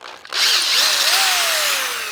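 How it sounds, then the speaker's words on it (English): A power drill fitted with a 3/8 inch bit deburrs the edge of a metal hole, sounding as a loud, steady whine with a rising pitch that holds for about two seconds, alone and close. "So I use the 3/8 inch drill bit just to clean the edges up, to deburr it."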